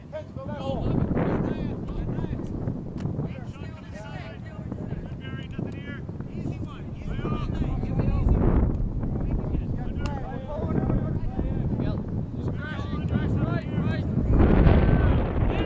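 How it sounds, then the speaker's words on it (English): Steady wind rushes across an open outdoor field on a breezy night at a high school ultimate frisbee game, a broad continuous whoosh buffeting the microphone, while someone talks throughout. "Again, it seems like the breeze is coming right from my back, straight across the field. Still a breezy night."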